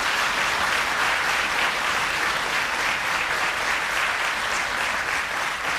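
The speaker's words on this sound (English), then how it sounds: "May you please give them a round of applause." Sustained audience applause fills a graduation ceremony hall, dense steady clapping from a large crowd continuing evenly without a break and without speech over it.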